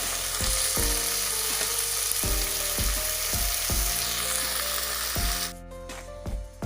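Aloo mongray sabzi sizzles steadily in a pan, a loud continuous frying hiss broken by repeated scraping stir strokes and clanks, with no voices.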